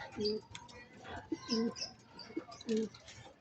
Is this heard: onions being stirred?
no